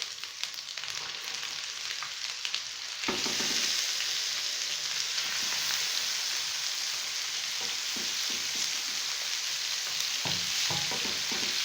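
Chicken hits a tawa of ginger garlic paste and fries, the sizzle jumping louder a few seconds in and then holding steady, with occasional scraping stirs, close and without speech.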